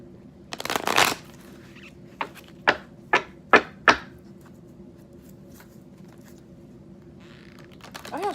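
Tarot cards being shuffled nearby: a quick riffle, then several short separate flicks at a steady pace, and one more shuffle at the end.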